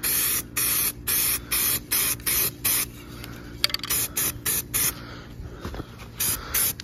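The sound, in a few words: spraying self-etching primer onto aluminum engine parts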